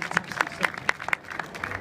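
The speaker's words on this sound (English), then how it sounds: "Ladies and gentlemen, give him a round of applause, Chef Reza Mahammad." Scattered applause from an audience at a food and wine show, individual claps audible, with a voice under the claps.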